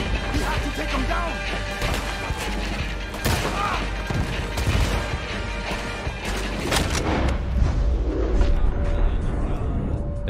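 Gunfire from an enemy shooting down from a tower in the Red Dead Redemption 2 video game, with dense bursts of shots, crashes and booms mixed with background game noise throughout, and voices speaking over the battle.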